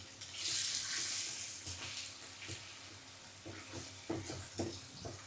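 A utensil scrapes and stirs ginger-garlic paste sizzling in a frying pan while making prawn pickle, a hissing fry early on followed by several distinct scraping strokes.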